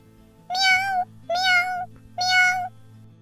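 Players in Roblox Brookhaven imitate a cat with three drawn-out meows, loud and close, evenly spaced with brief pauses between, over a faint low background hum.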